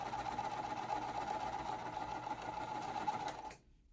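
Sewing machine chain stitching quilt fabric pieces runs with a fast, steady whirring hum at close range, then stops abruptly near the end.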